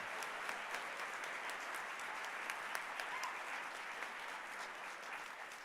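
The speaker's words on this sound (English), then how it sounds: "One more round of applause for all of the Spokane Scholars in the category of Fine Arts" A banquet crowd at the Spokane Scholars Foundation's annual dinner applauds in a dense, even wash of clapping, soft and somewhat distant, with a few sharper claps standing out.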